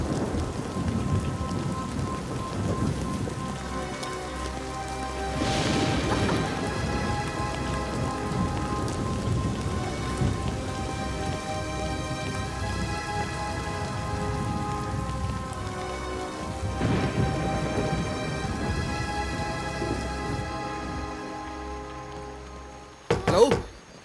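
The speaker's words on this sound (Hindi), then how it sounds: "जल्दी चलो, बारिश बहुत तेज हो रही है।" Heavy rain pours steadily, with thunder rumbling twice and a sharp thump near the end.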